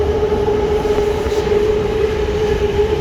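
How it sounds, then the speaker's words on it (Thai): Bangkok Skytrain passing on an elevated track near Siam, a continuous loud rolling rumble with a sustained tonal whine from the rail cars, close by and without speech. "จะมองรถไฟฟ้าวิ่งผ่านมาเป็นระยะระยะ รถไฟฟ้าจะวิ่งผ่าน"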